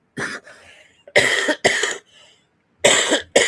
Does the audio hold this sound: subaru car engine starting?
no